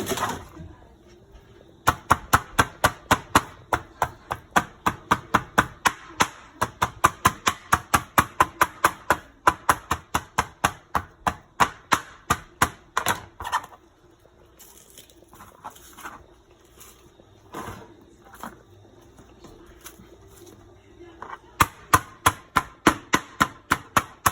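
A knife chops scallions on a cutting board for Jamaican pumpkin rice, with rapid, steady, loud knocks in long runs, a short pause near the middle, then sparser strokes and another quick burst at the end.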